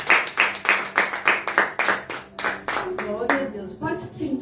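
A church congregation claps in a regular rhythmic beat, with sharp, evenly spaced claps and voices singing or calling out over them toward the end.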